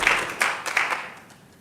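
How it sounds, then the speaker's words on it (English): Applause at a startup investor showcase: a short spatter of scattered hand claps from a small audience, a few distinct claps fading out within a couple of seconds. "And that's it, a big round of applause."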